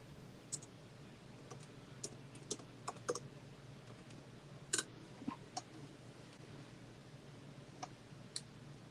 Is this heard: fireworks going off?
no